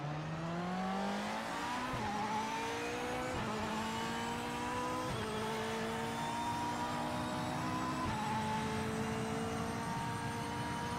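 A race car in the Project Motor Racing sim roars continuously, its engine note climbing and then dropping sharply at each of several upshifts, loud and close with no voices.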